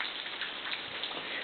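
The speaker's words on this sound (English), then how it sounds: "You might be able to hear the rain." Rain falls over a town, a dense, steady hiss of drops with faint ticking patter, heard from a distance and alone without any voices.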